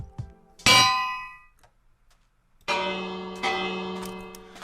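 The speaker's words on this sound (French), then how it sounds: "Là on va écouter juste le son isolé de la cloche." An isolated bell sound from the Minecraft video game, two bright metallic clangs with ringing overtones that fade slowly, standing alone with nothing else in the background.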